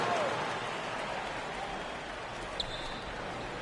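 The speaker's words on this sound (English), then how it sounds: "Let's give them a round of applause, your Mesa dancers." Steady crowd applause and cheering in the NBA 2K23 basketball video game fills the space evenly, a broad noisy wash that holds at a constant level throughout, with one brief sharp tap near the end.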